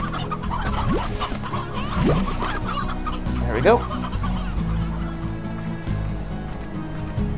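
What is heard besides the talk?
chickens clucking in a video game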